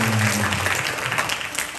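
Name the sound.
applause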